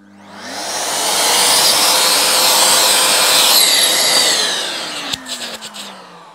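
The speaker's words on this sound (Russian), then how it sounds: "нужно будет поштробить. Поэтому воспользуюсь этим пылесосом" A wall chaser cuts grooves in a wall with a Makita DVC150L vacuum hooked up to it. It makes a loud, steady grinding roar that spins down near the end, followed by a few sharp clacks.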